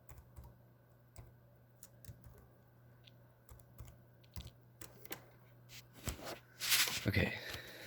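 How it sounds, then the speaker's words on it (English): Light, scattered key taps on a computer keyboard, close but faint, with a brief louder burst of rustling near the end. "let me just type this in first"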